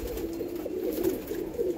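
Blue chequer racing pigeons coo in low, steady murmurs, several birds overlapping close by with no pauses and no talk.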